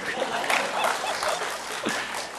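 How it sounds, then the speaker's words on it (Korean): Soft, diffuse applause from a church congregation during a Sunday sermon, a brief wash of clapping heard from a distance and fairly faint, with no voices over it. "기왕 내친 김에 박수도 쳐요."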